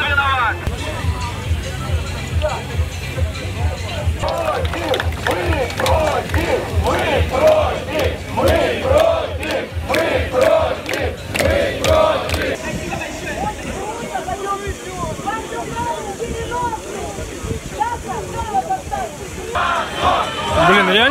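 A protest crowd in central Rostov chants and shouts. The noisy mass of voices is loud and continuous throughout, with rhythmic bursts of yelling rising and falling.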